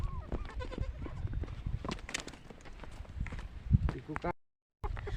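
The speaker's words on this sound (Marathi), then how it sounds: "शेळी काय म्हणते ते बघूया" A female goat bleats a few times amid rustling, footsteps and people talking nearby, followed by a brief silence.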